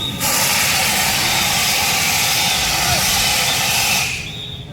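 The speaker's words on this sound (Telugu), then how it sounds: "ఇద్దరు ఫైర్ మ్యాన్ సూట్ వేసుకున్న వాళ్ళు కార్బన్ డైఆక్సైడ్తో దాని ఫైర్ని ఆపడానికి ట్రై చేస్తున్నారు" A loud, steady rush of gas from a carbon dioxide fire extinguisher sprays continuously for about four seconds during a school fire safety drill, then cuts off abruptly.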